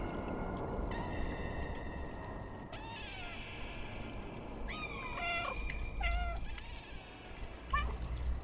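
A cat meows several times in a video game, Stray, plaintive and drawn out, over a constant running-water background; no talking.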